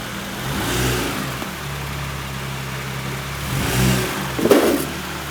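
A sixth-generation Toyota Camry V6 driving onto ramps on a driveway: the engine idles, then revs up briefly in a couple of swells, ending with a sharp thud or clunk, with no speech.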